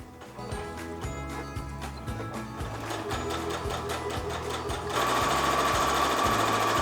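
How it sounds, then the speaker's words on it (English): A sewing machine runs a seam on a quilted patchwork bag, its needle thumping in a fast, even rhythm close to the mic, with the motor whir growing louder as it speeds up near the end. "Now that we have sewn that seam, grab your iron first"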